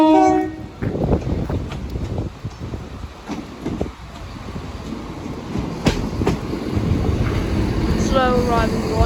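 Train arriving at the Sleaford East level crossing on a windy day, a steady rumble with clickety-clack and a horn-like tone near the end, under wind noise and occasional voices.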